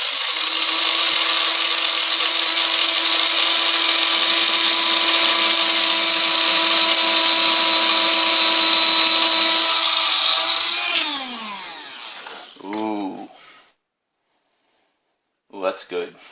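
An electric grinder whirs loudly and steadily as it grinds roasted Colombian coffee beans, running for about eleven seconds before winding down; brief voices follow after it stops.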